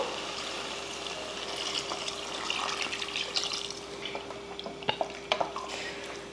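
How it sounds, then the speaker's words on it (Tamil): Water runs and splashes into a cooking pot of sautéed food, a steady close stream that turns to scattered drips and small splashes near the end. "இப்போ தண்ணி சேர்த்துருவோம்"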